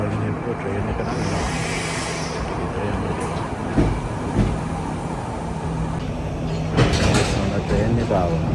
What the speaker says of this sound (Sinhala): ට්‍රේන් එක ආවා.